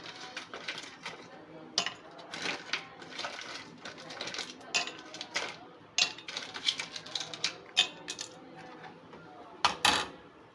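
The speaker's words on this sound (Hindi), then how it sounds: "आइस क्यूब डालेंगे जितना आप ठंडा पसंद करें।" Ice cubes drop into a glass of apple juice with lemon, giving a string of bright, irregular clinks and rattles close by, and a voice speaks now and then.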